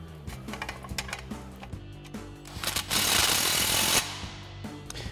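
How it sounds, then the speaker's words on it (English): Impact wrench with a 15 mm socket snugging an exhaust clamp on a mid pipe of a 2019-2024 Silverado or Sierra 1500 dual exhaust, a loud second-long rattling burst after light metallic clinks against a low shop hum. "we'll grab our 15 mil socket on our impact and go ahead and snug this down"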